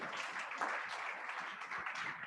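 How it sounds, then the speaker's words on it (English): Applause from the audience at a provincial members' assembly, a soft continuous patter of clapping heard from a distance in a large hall. "Can we give him a round of applause?"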